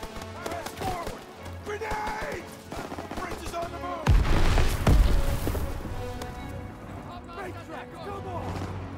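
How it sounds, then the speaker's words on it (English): A grenade blast booms in the Call of Duty WWII battle, a loud low burst midway through, surrounded by continuous rifle and machine-gun fire and shouting soldiers. "Grenade!"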